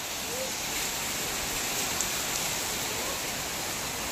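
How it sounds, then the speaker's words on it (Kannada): Steady heavy rain pours down in a dense, unbroken hiss, loud and constant throughout with no voices. "ಭರ್ಜರಿ ಮಳೆ."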